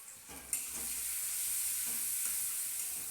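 Onions frying with turmeric powder in a pan, stirred for a cauliflower curry: a steady hiss of sizzling oil runs throughout, with soft scraping strokes of the spoon coming through close by. No one speaks.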